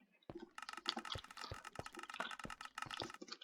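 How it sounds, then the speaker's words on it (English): Rapid, fairly faint irregular clicks and taps of a Minecraft spidey-sense alert that fires when a mob is close, heard alone without talk. "Do you hear that clicking? It's the spidey sense."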